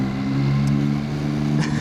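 Steady, close motorbike engine hum while riding through Chiang Mai's old city, a continuous drone with no voices.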